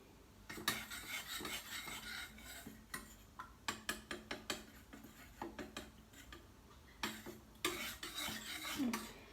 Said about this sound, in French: Voilà, je mélange bien